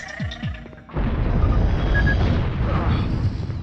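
A mine blows up in the video game C-12: The Final Resistance, a sudden heavy boom after a few short electronic tones, followed by a loud, sustained rumbling roar of debris and game effects.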